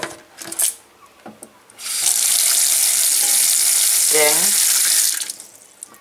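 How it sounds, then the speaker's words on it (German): Tap water pours steadily into a small kitchenette sink in a Tenerife hotel apartment, a loud continuous splashing rush lasting several seconds before cutting off, with brief clatter and a few spoken words around it. "Wasser eingelassen"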